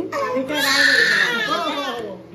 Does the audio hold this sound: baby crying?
yes